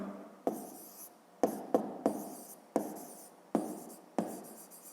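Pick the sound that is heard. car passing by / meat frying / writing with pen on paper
writing with pen on paper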